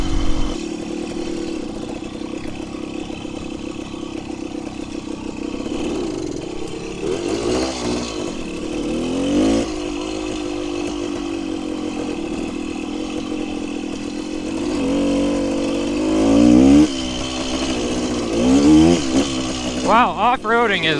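A 1974 Honda MT250 motorcycle engine runs close by with a rough idle, then rises and falls in several uneven revs as it bogs out from poor tuning, with a voice speaking at times.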